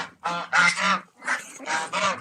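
Geese on a farm with ducks and other fowl honk in a quick series of loud, harsh, nasal calls close by, several honks in two bursts with short pauses between.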